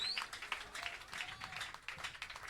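Congregation applauding at a Sunday sunrise Easter church service, a steady wash of many hands clapping at moderate loudness with no clear talk over it.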